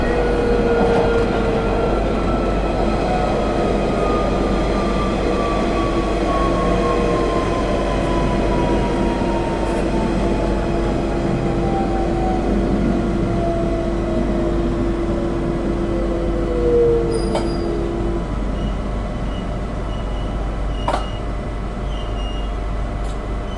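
A London Underground Central Line 1992 Stock train running between Epping and Loughton, heard from inside the carriage: a loud, steady rumble of wheels and motors with a falling motor whine and occasional clicks.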